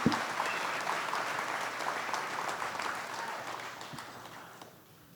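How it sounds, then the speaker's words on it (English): Audience applause at an investment dinner hosted by DLP Capital Partners, a steady wash of many hands clapping from a room full of diners, holding level for several seconds before thinning out toward the end. "One more round of applause for Gunther"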